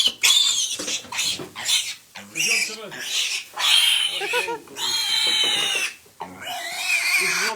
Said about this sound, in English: This is one of our pigs here